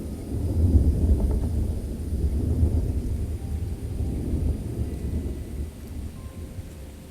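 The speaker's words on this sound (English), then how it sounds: "You gotta love a good low country storm right at the end of the day. Just got off work and it started raining." Low country thunderstorm at day's end, deep rolling thunder rumbling continuously over steady rainfall, loud and close, easing slightly toward the end.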